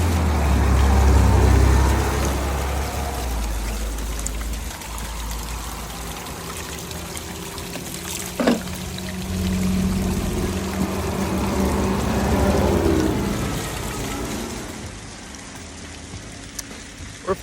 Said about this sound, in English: There's a waterfall here, and we're gonna fill up this water bottle with some fresh